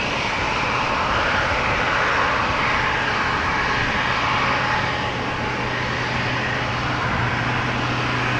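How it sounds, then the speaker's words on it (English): A KLM airliner at Amsterdam Schiphol Airport, its engines a loud, steady broadband roar that holds throughout with a low hum beneath, no voices. "KLM flight 1639 to Marseille."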